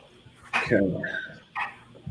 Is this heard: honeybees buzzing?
no